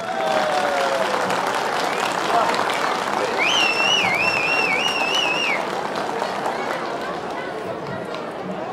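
A festival crowd applauds to welcome Mehmet Turan, an elder folk musician, continuous clapping and chatter with a voice calling out over it and a brief whistling or warbling tone riding above the crowd.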